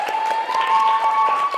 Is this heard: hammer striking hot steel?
no